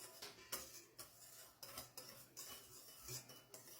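A whisk clinks against a bowl while blending raspberry fruit purée with gelatin, giving quiet, irregular metallic taps and scrapes at close range with no talking.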